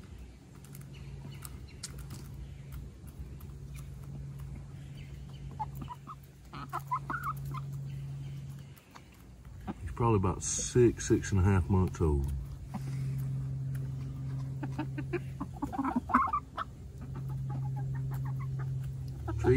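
Turkeys and chickens cluck, gobble and chatter while pecking at poultry treats, with bursts of calls near and loud between stretches of steadier clucking as someone talks over them.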